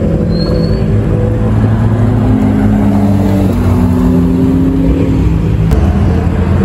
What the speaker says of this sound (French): Ferrari 458 Speciale